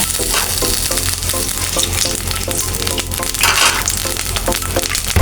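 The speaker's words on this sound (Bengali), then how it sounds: "এই চিংড়ি মাছটা একটু ভেজে নেব" Shrimp frying in hot oil, a loud, continuous crackling sizzle with a steady bubbling texture and faint stirring scrapes running throughout, close and dense.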